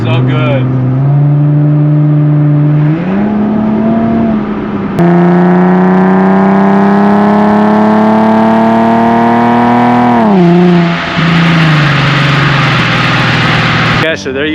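A Nissan 370Z with a GReddy Evolution GT exhaust pulls hard from inside the cabin, the loud engine note climbing through gears with two sharp shifts, then easing off and dropping back down.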